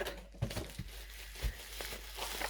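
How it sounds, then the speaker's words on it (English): Bubble wrap crinkles and rustles up close while a parcel is unpacked, in a few short crumpling bursts. "Oh, bubble wrap."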